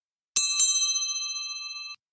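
A bright bell ding sound effect rings twice in quick succession, then holds a clear, sustained metallic tone that decays slowly for more than a second before cutting off, heard alone against silence.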